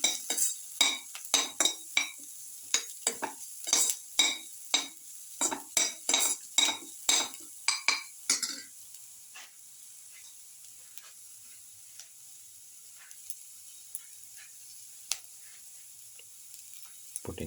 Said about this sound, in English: Garlic saute mix.